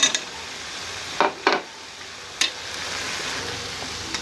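Potatoes and moong dal fritters (moongray) sizzle as they are stir-fried together in a pot, with a steady low frying hiss broken by a few sharp scraping clicks of a spoon against the metal.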